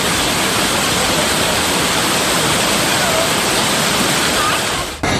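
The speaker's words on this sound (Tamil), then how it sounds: "ரொம்ப ஆற்று தண்ணியெல்லாம் ரொம்ப அதிகமாக போகுது" Floodwater rushes down a swollen river in Tamil Nadu after Cyclone Fengal, where the causeway is submerged. It is a loud, unbroken roar of water that cuts off abruptly at the very end.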